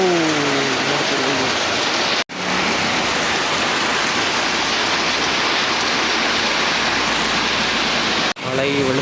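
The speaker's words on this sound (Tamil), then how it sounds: "மழை வெளுத்து வாங்குது" Heavy rain pours down steadily in Jaffna, a dense, loud, unbroken hiss of downpour close by, with two brief dropouts and no clear talk over it.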